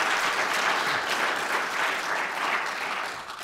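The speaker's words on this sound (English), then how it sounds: "So give Joe a big round of applause." Sustained applause from an audience at a book launch event, a dense, steady wash of many hands clapping together that fades slightly toward the end, with no talking over it.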